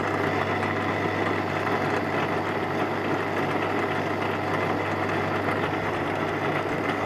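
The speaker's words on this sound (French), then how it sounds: "Le moteur doit être juste en dessous. Donc, le bruit vient de là." Motor noise from a Durst RCP50 photo processor: a steady, loud drone with a low hum and a broad mechanical whir, unchanging throughout and with no talk over it.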